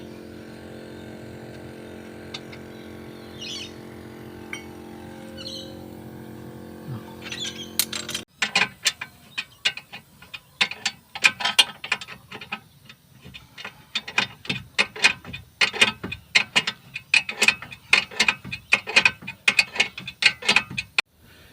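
A ratchet wrench tightens a nut on a car's lower control arm, giving rapid clicking bursts that speed up and pause. The clicks are close and sharp and follow a quieter mechanical stretch.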